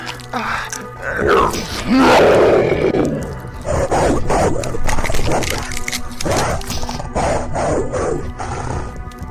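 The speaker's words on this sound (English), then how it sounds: "A wolf's mouth came out with a roaring growl." A wolf's roaring growl rises loud and close, a deep rasping snarl followed by several shorter growling bursts that fade off toward the end.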